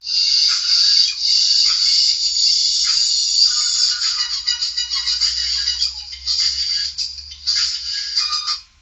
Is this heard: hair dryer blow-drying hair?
no